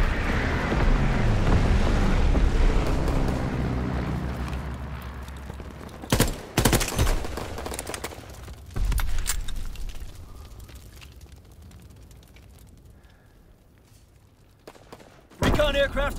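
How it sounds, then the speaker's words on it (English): Enemy mortar fire in the video game Call of Duty WWII: heavy rumbling blasts at the start, then sharp booming impacts scattered through the clip, loud and close, with game voices over parts of it. "Enemy mortar fire incoming!"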